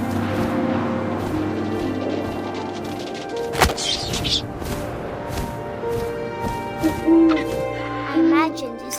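An owl hoots in the video game What Remains of Edith Finch amid wind and game ambience, with a sharp thwack partway through and several short tonal calls later.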